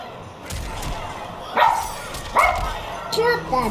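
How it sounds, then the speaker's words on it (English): A dog barks in short bursts, three sharp yelps spaced about a second apart, during a Mortal Kombat online league match, with someone talking over the game sounds throughout. "I might do something with that damn dog."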